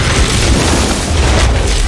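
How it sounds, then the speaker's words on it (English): A loud, close movie explosion as a man detonates himself, a dense roaring boom that fills the whole stretch with sustained rumble and no talk. "Victor pushes the button and blows himself up."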